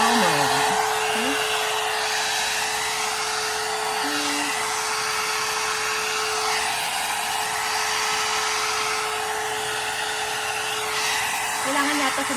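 A hot air brush runs on its low setting with a steady, close blowing hum and a thin constant whine that holds throughout, with faint voices underneath.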